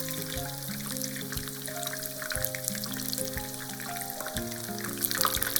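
Eggplant pieces fry in hot oil with a steady, close sizzle and crackle throughout, with no voices over it.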